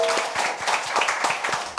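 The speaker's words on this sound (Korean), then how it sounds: "여러분의 힘찬 박수와 함께 시작하겠습니다" A studio audience claps for a Korean current-affairs talk show opening, rapid dense hand claps sustained throughout at close range.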